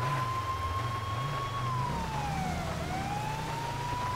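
A police car siren in GTA 5 wails on and on with a slow rising and falling tone over a low engine rumble, steady and moderately loud, with no one talking.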